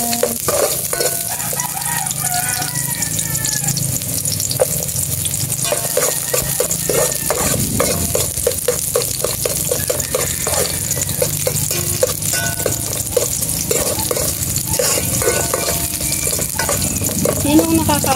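Steady sizzling of onions in a frying pan with occasional stirring scrapes, continuous and close, with faint talk in the background.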